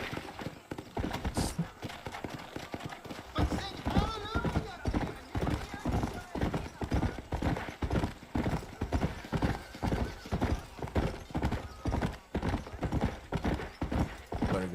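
In the video game Red Dead Redemption, a horse gallops with a fast, steady drumming of hooves and an occasional whinny, while someone talks intermittently over the rhythm.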